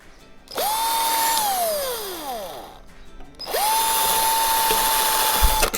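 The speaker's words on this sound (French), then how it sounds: "on va percer" A power drill runs in two loud bursts, each spinning up to a steady high whine; the first winds down with a falling pitch before the second starts and holds to the end.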